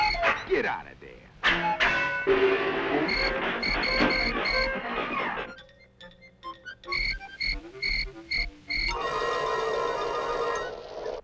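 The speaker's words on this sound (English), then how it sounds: "There's a cricket in there." A cartoon cricket chirps in bursts of sharp, repeated trills, with croaking tones and other cartoon sound effects around them, loud and close, with breaks between the bursts.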